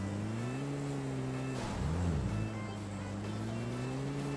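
Vehicle engine in the PUBG Mobile game, a steady low droning hum with a brief pitch bend and swell near the middle, continuous and moderately quiet, with no talk.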